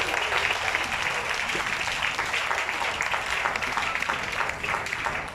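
A church congregation applauds and cheers for Jesus during a service. Dense, loud, steady clapping fills the whole stretch with crowd noise mixed in.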